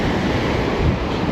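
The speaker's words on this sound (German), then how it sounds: "Die Wellen sind ziemlich harmlos." Ocean surf breaking on a beach at Fuerteventura, a steady, loud wash of rushing water and wind noise with no voices.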